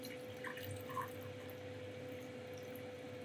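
Water is poured into a measuring cup while making ghost pepper hot sauce, a faint steady trickling stream with soft splashes over a low background hum, alone without talk.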